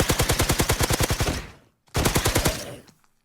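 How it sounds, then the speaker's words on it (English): A custom SMG from the Minecraft Just Enough Guns mod fires rapid automatic bursts, a loud steady string of shots that stops briefly, then a second shorter burst follows. "I would say the custom SMG is probably one of the better early games weapons because, well, it's automatic."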